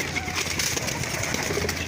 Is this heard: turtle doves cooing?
yes